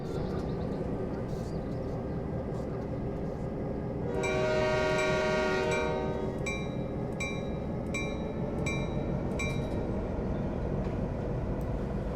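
A GP9RM diesel locomotive in Train Sim World pulls away on the Canadian National Oakville Subdivision, its low engine drone steady throughout, with a tonal horn sounding partway through and then repeated short horn or bell blasts.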